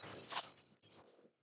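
Tarot cards being shuffled a couple of times, giving a brief close papery riffle and rustle that is faint and stands alone without talk.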